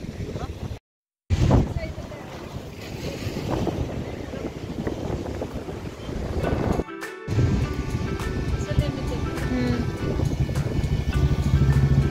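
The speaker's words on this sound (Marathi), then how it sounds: "पाण्याचा इतका छान असा आवाज येत होता ना, मस्त वाटत होतं" River water flows continuously at the Indrayani river, a broad rushing wash heavily buffeted by wind noise on the microphone, with a brief dropout near the start.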